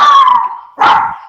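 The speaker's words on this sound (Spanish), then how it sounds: "Perdón por el ruido del perro." Two loud dog barks close by, the first drawn out and fading, the second sharper after a short gap, heard alone with no voices.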